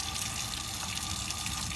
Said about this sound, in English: And you rinse off really good, warm to hot water.